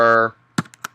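A few quick, close keystrokes on a computer keyboard follow the brief tail of a voice, sounding as separate sharp taps within about half a second.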